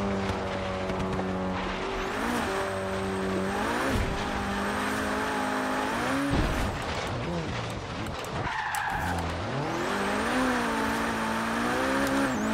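An Abarth Fiat 131 rally car driven off-road in Forza Horizon 3, engine revving up and down through gear changes, with tires skidding and squealing over loose ground while someone talks over it.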